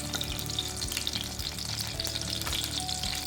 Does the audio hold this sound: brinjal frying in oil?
yes